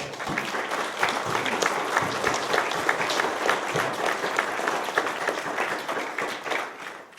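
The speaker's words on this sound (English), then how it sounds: "I'd like to give him a round of applause." A conference audience breaks into sustained, dense applause for a military retiree, steady and full for several seconds with no talk over it.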